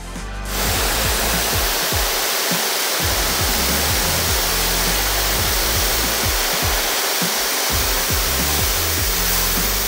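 A Kränzle cold-water high-pressure washer spraying, a loud continuous hissing water jet that starts abruptly and runs steadily to the end, with no voices over it.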